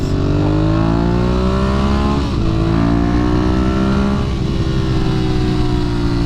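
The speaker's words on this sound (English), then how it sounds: "Yeah, that's a Panigale. That's all Panigale right there." A Ducati Panigale 1200 motorcycle engine revs loud and close, a steady high-rpm roar whose pitch dips briefly and climbs again, with no talking over it.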